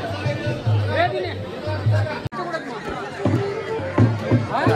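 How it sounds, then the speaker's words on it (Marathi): A busy crowd at Ekveera temple on a Saturday fills the air with close, overlapping chatter and murmuring voices, with someone talking prominently over the babble. "आज शनिवार असल्यामुळे आईच्या दर्शनाला किती गर्दी आहे बघा"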